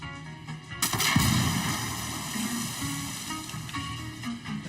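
Sustained gunfire in the open-world shooter Ghost Recon Wildlands, a loud, dense burst of shots and booms that starts after a brief lull and keeps rolling steadily to the end with no talk over it.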